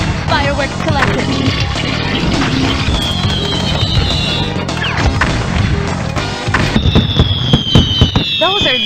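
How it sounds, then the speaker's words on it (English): Fireworks go off in a pinball video game, a busy run of crackling bursts, pops and rising whistles that stays loud and dense the whole way, with bright electronic tones running over it. "Fireworks collected."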